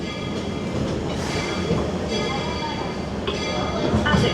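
The Walt Disney World Railroad train rolls into Main Street Station, with close rumbling wheels, rhythmic clacking and brief squeals over the tracks, and voices murmuring faintly beneath.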